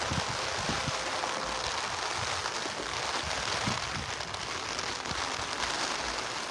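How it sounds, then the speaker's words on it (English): Rain falls steadily on a vehicle during an afternoon drive in Berbice, Guyana, a dense even hiss of drops with scattered louder taps and a low road rumble underneath, and no one talking. "On this rainy afternoon here."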